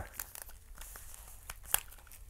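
Plastic shrink wrap is torn and peeled off a Blu-ray digipack case, giving quiet crinkling and ripping bursts with one sharper tear near the end, close up with no talking.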